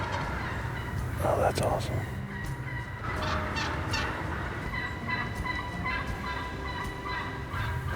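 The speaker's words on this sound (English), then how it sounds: "we've got a gobbler right in our face." Wild turkeys gobble repeatedly during a fall hunt at first light, the gobbles loud and close in open woods, with a brief spoken exclamation partway through.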